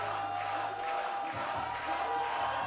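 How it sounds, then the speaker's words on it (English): Crowd at the Bloc Shop Open 2019 bouldering finals cheering a climber, a steady roar of voices and whoops holding at a moderate level throughout, with a commentator talking over it. "Crowd is getting behind Sean McCall."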